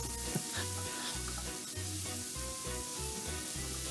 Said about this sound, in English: the guanciale will continue to render its fat out